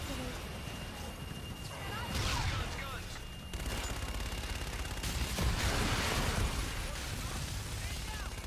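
Aircraft gun run strafing fire in Call of Duty: Infinite Warfare, dense rapid bursts and rumbling impacts building through the middle and end, heavy and loud over a constant battle din, with radio chatter mixed in.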